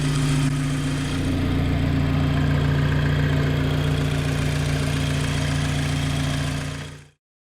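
A Volkswagen MK5 GTI sits idling after a turbo catch can install, its steady low engine hum running evenly and close by for about seven seconds before cutting off abruptly.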